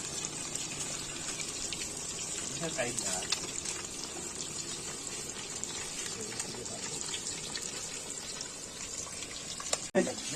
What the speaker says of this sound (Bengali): পাঙাশ মাছ ভাজা হচ্ছে এখানে।